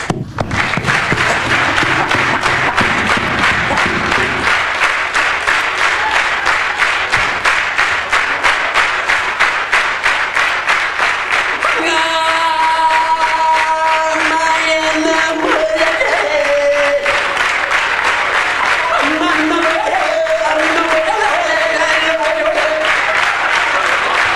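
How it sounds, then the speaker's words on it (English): An audience at a stand-up comedy show claps along in a steady rhythm, loud and continuous, with a sung melody and musical tones joining partway through. "Come on, clap your hands"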